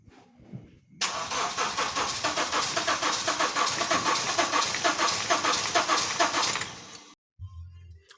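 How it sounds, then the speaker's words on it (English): A Honda Step Wagon with a crank-no-start fault cranks for about six seconds. The starter churns loudly in a fast, even rhythm without catching, then cuts off abruptly. "Unfortunately, even after connecting the wires, this vehicle is not starting."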